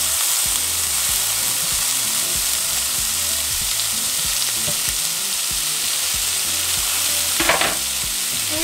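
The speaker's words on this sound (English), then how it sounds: "once our oil is hot, we're going to add our tomatoes and onions." Tomatoes and onions fry in hot oil in a frying pan for ground beef and potato flautas, giving a loud, continuous close-up sizzle with repeated soft scraping of a utensil stirring against the pan.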